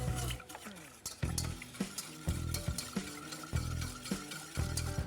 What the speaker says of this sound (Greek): Και ανακατεύουμε καλά.